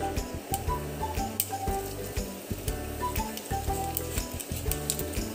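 Cumin seeds crackle and sizzle in a tablespoon of hot oil, a busy run of small pops and ticks continuing steadily throughout.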